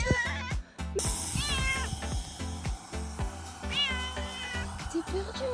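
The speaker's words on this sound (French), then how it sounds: "Un petit chat." A small kitten, found apparently lost and thin during a hike, gives repeated high, wavering meows at close range, some rising and falling, with rustling handling noise and brief soft talking between calls.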